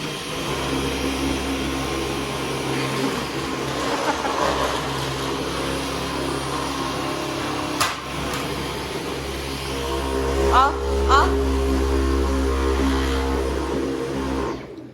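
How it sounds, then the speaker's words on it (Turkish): A vacuum cleaner drones loudly and steadily throughout, its motor pitch shifting slightly as it moves, with brief knocks and squeaks near the end. "Kızlar şimdi Ayaz'ın süpürge sesini duydu"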